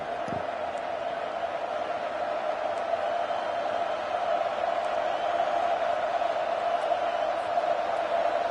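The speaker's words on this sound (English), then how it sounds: "Decibels rising as the crowd gets behind this defense on third down" Football stadium crowd roaring steadily behind the defense on third down, a continuous distant wash of cheering with no breaks.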